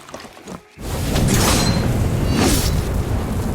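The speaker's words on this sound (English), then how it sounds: "for the next 30 seconds I can cast Dragon's Breath without the drinking animation" Dragon's Breath ability cast in the Where Winds Meet video game: a sudden roaring blast of fiery wind that holds loud and steady for several seconds with surging whooshes, after a short quiet lead-in.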